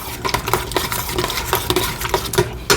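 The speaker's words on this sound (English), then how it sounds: "I'm going to go ahead and add this to the peaches. And I'm going to go ahead and stir." Lemon juice being stirred into peaches in a pot for preserves, with a utensil clinking and scraping against the pot in a steady run of close, moderately loud strokes.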